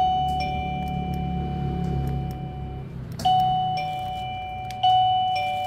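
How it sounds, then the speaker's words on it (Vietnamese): A wireless plug-in gate doorbell rings indoors, sounding a sustained electronic chime tone that gives way to two sharper, louder ding strikes, each fading slowly, with no speech. "Cái này gọi là chuông cổng các bác nhá."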